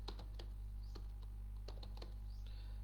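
Keys clack on a computer keyboard in short irregular bursts, a dozen or so crisp close taps with brief pauses, quiet against a steady low electrical hum.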